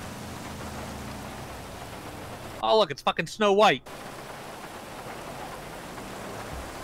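Steady rain falls throughout, a constant hiss of drops on surfaces, briefly interrupted by a short burst of a man's speech in the middle.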